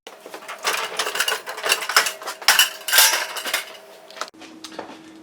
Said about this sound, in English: take the entire bottom rack out